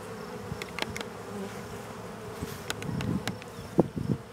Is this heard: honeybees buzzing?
yes